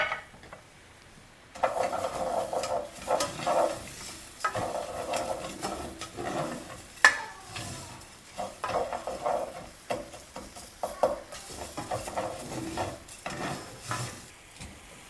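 Rice and minced garlic are stirred in a hot pan, with sizzling and scraping bursts that come in repeated waves after a quiet start. No one speaks.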